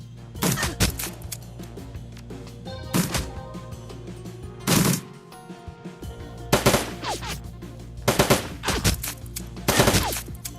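Shadowrun: Dragonfall, a turn-based game, plays bursts of automatic gunfire and single shots in several separate volleys with brief pauses between, loud and close, with no talk over them.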